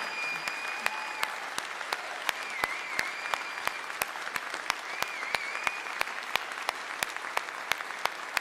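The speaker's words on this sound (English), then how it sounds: "all please rise again and give our Madam Chairman another round of applause" Audience applause at an RNC meeting as the outgoing chairwoman is honored, sustained clapping from a large crowd filling the hall steadily, with a few sharp louder claps standing out and no speech over it.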